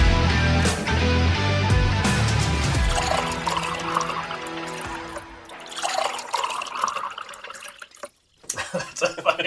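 A drink poured generously into a glass, a steady liquid stream with gurgling and trickling, close and loud, while people chat over it before a brief pause.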